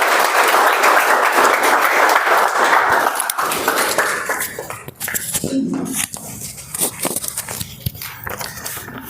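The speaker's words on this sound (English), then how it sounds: "So, Toastmaster Sukesh, let's welcome him with a big round of applause." Applause at a Whitefield Toastmasters meeting, loud steady clapping from the room that thins out after a few seconds into scattered claps, shuffling and room noise.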